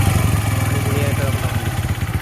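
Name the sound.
Bajaj CT 100 motorcycle engine idling after first start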